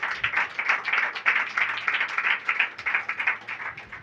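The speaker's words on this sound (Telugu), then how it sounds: "అందరూ ఒకసారి చప్పట్లు కొట్టండి" An audience at a church sermon claps hands together in a steady, dense burst of applause lasting several seconds, moderately loud and close, with no voices standing out.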